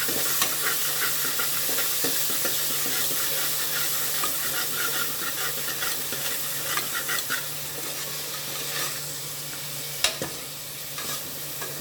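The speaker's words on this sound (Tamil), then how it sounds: "சீக்கிரம் வதங்கிடும் வெங்காயம்." Onions sautéing with salt in a pan for a Tamil naatu kozhi country chicken gravy, giving a steady close sizzle with soft scraping stirs, a low hum underneath, and a sharper clink near the end, with no talking.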